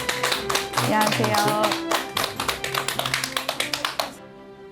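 A studio audience claps in welcome for a guest, loud and close at first, then thinning into fewer distinct claps before a brief greeting is spoken near the end.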